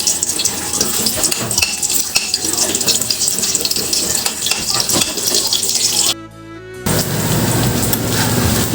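Garlic sautéing in hot cooking oil, a dense steady sizzle and crackle that runs nearly throughout, cutting out for a moment near the end and then returning.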